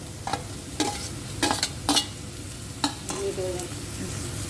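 Onion and tomatoes fry in a pan under a steady sizzle, with several sharp scraping strokes of a spoon stirring them, close and clear.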